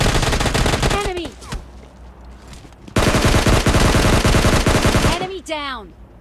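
Rapid automatic gunfire in PUBG Lite, loud sustained bursts with a pause between them and bullet ricochet-like whines trailing off.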